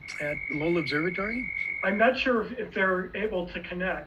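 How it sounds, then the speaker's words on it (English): Frogs croak in the background at night during a live lunar eclipse broadcast, a rhythmic chorus of pulsing calls running under a person speaking. "And so you have the frogs in the background."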